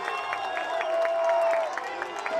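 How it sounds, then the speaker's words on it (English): Crowd noise at a college football game between Elmhurst and Olivet, a steady roar of cheering and rhythmic clapping on third down, sustained and broad, with a whistle-like tone running through it. "the Blue Jay defense encouraging the crowd to make some noise"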